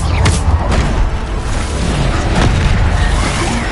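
A loud, booming Bombarda spell explosion in the Hogwarts Legacy game, heavy low rumble filling the whole stretch with a few sharper pops, up close.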